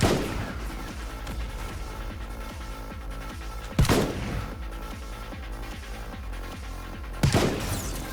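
Steady Final Fantasy XV gunfire in a dense, continuous stream of rapid shots under a busy game soundscape, with two louder blasts standing out partway through.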